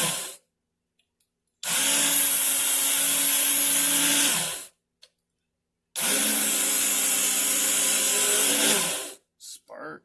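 A Worksharp belt sharpener grinds a dull knife blade in two sustained, loud passes of about three seconds each, separated by a short silent pause, with a hissing abrasive roar close by.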